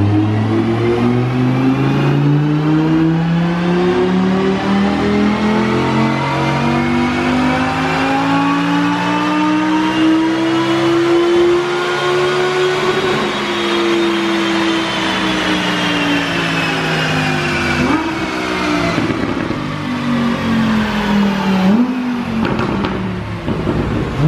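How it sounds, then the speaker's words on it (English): 2017 Audi R8 (non-Plus) engine with a VF tune roaring through a long, loud dyno pull, pitch climbing steadily for about thirteen seconds, then easing and wavering before a brief final rev, heard alone without talk. "this is going to be the first dyno pull with the tune"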